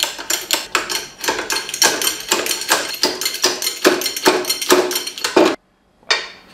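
Metal bearings are hammered into a truck differential carrier with a rapid, steady series of sharp metallic blows, loud and close, ending after a short pause with one more strike.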